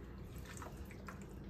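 Water dripping and trickling from cooked artichokes being drained in a kitchen, a soft, close patter of irregular drips over a brief moment.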